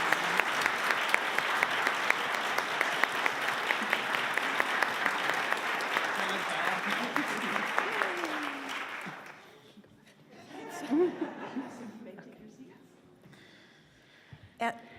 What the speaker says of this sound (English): let's have a round of applause for our 2023 Bridging teens